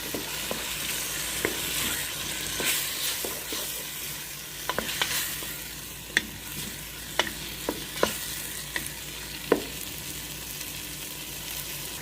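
Tomato paste is stirred into a frying potato and eggplant dish with chana dal, a steady close sizzle broken by intermittent scraping clicks of a spoon against the pan, with no talking.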